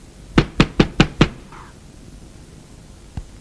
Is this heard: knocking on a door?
yes